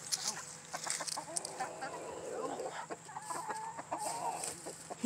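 Chickens and a rooster cluck on an off-grid homestead, a busy run of short, fairly close clucks and calls with faint background sound between them.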